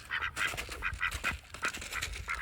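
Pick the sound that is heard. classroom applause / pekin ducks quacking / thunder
pekin ducks quacking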